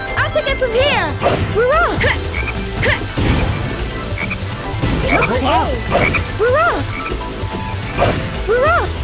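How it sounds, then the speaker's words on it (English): A black frog in the Sonic Heroes video game croaks repeatedly in quick, rising calls throughout, mixed with game music, crashing impacts and spoken character lines. "There's that black frog again."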